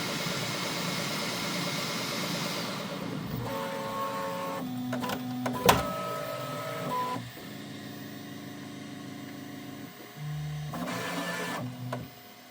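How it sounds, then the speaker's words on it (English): Desktop 3D printer finishing a print of model railroad rolling stock cradles, a steady mechanical whir with stepper-motor tones that shift in pitch and stop and start in short moves, close and moderately loud. "I think the print is just about finished."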